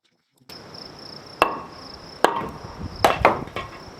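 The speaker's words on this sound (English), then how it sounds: "there's nothing left to do but cut the floor joist and get after it" A saw cuts through a wooden floor joist while rotten beams are being replaced. A steady high whine runs throughout, broken by several sharp, loud knocks and cracks spaced a second or so apart.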